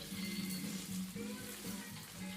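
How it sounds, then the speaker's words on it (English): Food sizzles and crackles in hot oil in a wok, a bright hissing spatter with soft stirring scrapes underneath. "hear the sizzles"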